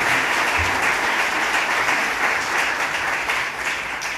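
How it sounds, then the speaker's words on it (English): A large audience applauds steadily at an education event at Virginia Western, the clapping dense, loud and continuous throughout with no voices over it. "Please give a warm round of applause to Dr. Brenda Dan Messier."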